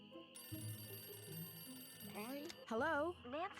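An in-game telephone rings in a video game, a warbling electronic trill repeating in short bursts over background music and tones, with a voice talking alongside.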